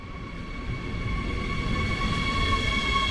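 A steady rumble of a commuter train fills an underground station beneath an airport, with low mechanical noise building slightly and a faint tonal hum from the carriage; no voices.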